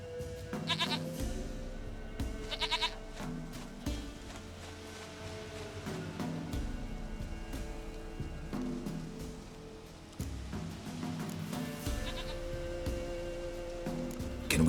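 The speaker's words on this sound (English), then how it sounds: "Goat of mine, dearest, sweetest goat." A goat in The Witcher 3 video game bleats in a series of clear, wavering calls, some bursts close together, over a quiet game ambience with no talk.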